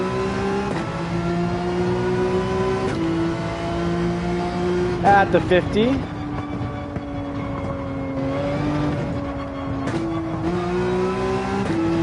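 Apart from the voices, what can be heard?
Porsche 911 race car engine revving in video game Gran Turismo 7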